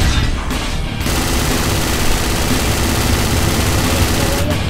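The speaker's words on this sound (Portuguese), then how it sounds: "o cara tá atirando aí" Dense, continuous gunfire from the tactical shooter game Project Reality, a loud, sustained wash of overlapping shots and booms with no break, steady in level throughout.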